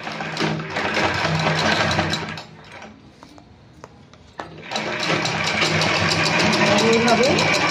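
Electric sewing machine stitching fabric in a loud continuous whir, pausing briefly mid-way with a few faint clicks before running steadily again.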